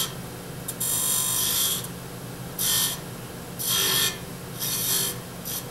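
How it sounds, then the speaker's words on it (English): Skew chisel cutting grooves into a pewter finial tenon spinning on a lathe, several bright rasping scrapes of about a second each separated by short pauses, over a steady motor hum. "I do that by just putting a couple of grooves in the tenon here."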